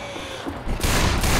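Sustained gunfire in Left 4 Dead 2, Expert Realism mode on The Passing campaign, starts quietly then swells into a loud, dense burst of rapid shots in the second half, with no talking.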